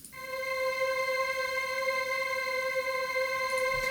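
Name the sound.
Serum synth drone of two saw waves drenched in reverb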